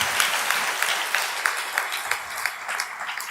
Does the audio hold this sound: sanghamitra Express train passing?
no